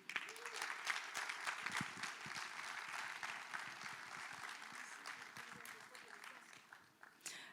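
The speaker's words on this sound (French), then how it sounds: "Je vous invite à applaudir Dobé Niaouré." At the opening conference of a forum, an audience applauds with a steady patter of clapping. The clapping is fairly faint and even throughout, with a voice or two in the room.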